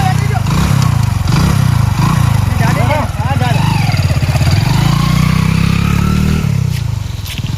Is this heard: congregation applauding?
no